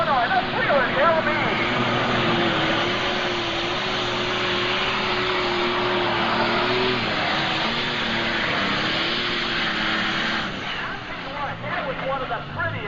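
A John Deere pulling tractor, the Wheeler LB, roars at a 1995 NTPA tractor pull in Fort Recovery, a sustained loud engine drone with a wavering pitch under continuous announcer commentary.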